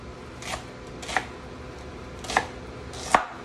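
Peppers sliced into thin julienne strips for a pepper steak and noodle dish, four separate knife chops on a cutting board spaced about a second apart over a quiet room hum.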